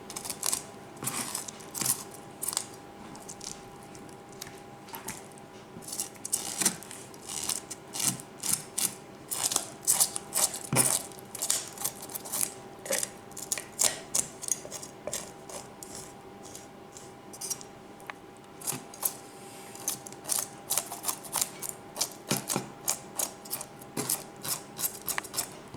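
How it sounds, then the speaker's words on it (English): Knife scraping scales off a snapper, a quick series of short, crisp rasping strokes repeated throughout, close up and fairly quiet, with no talking. "Make sure you scrape down all the scales"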